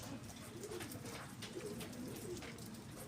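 Several pigeons in a loft coo softly and repeatedly, low murmuring calls overlapping against a steady wash of outdoor background noise, with no talking.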